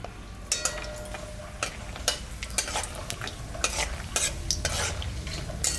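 Nuts and bay leaves fry in mustard oil in a pan, a soft steady sizzle broken by sharp clacks and scrapes of a spoon stirring against the metal at an irregular rhythm, close by with no talking.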